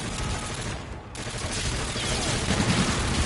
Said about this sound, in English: get the laser guns out of here